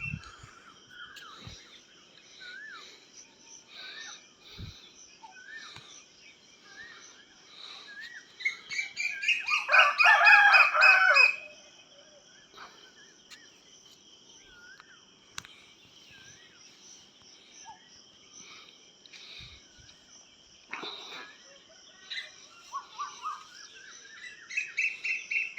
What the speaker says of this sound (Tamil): காலையில் பறவைகளை பார்த்தீங்களா, எவ்வளோ உற்சாகமாக